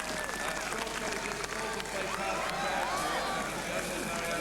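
A Cork crowd applauds the yellow jersey winner at a 1988 Tour of Ireland cycling stage, with steady, dense clapping and crowd noise sustained throughout.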